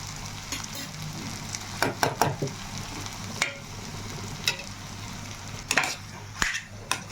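Chicken frying in a pan with dried red chili paste gives a steady close sizzle, broken by several sharp stirring scrapes and clicks.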